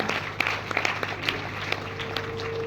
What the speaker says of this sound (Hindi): अब बजाओ ताली जोरदार